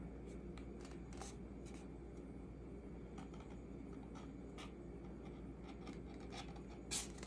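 Scissors cut through a 20 oz paper coffee cup in a run of short, quiet snips and rubbing scrapes over a steady background hum.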